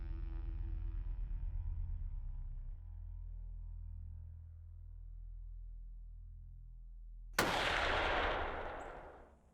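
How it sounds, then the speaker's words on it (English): A single sharp rifle shot cracks out while hunting a mature doe, bursting suddenly after a long stretch of low steady hum and rumble, then ringing and decaying over the final two seconds. "A mature doe is back in Chase's sights as he readies for another shot."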